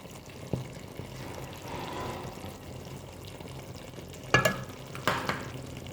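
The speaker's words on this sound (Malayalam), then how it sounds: "ഓയിൽ ഇച്ചിരി ഇങ്ങോട്ട് ഒഴിച്ചു കൊടുക്കുക" A soft background sizzle and stirring sit under a quiet kitchen scene as coconut oil goes over avial, a Kerala mixed-vegetable curry soured with curd, with two short louder clattering bursts near the end.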